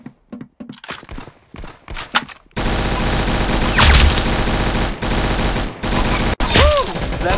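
Rapid gunfire from the Roblox game Arsenal: several short bursts and isolated shots at first, then a long, loud stretch of sustained automatic fire with brief gaps.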